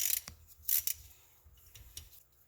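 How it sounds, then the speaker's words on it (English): Bolts coming off the starter cover of a Raptor 660 ATV engine with a ratchet or tool, heard as a few brief close metallic clicks and rasps separated by near-silence. "But go ahead and take off all these bolts."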